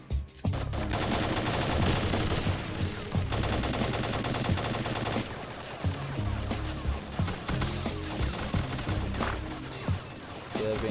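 Gunfire from unseen enemies in the PC shooter Halo Custom Edition, loud, dense bursts of automatic shots with in-game music and effects, rattling almost without pause throughout.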